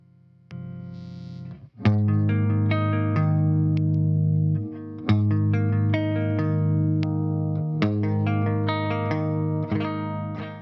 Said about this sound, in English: And then you turn on the compression pedal and then it sounds like this all of a sudden.